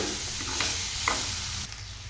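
Ivy gourd fry being stirred with its added ingredients in a pan, giving a steady close sizzle with soft scraping strokes, continuous and fairly loud, with no talking.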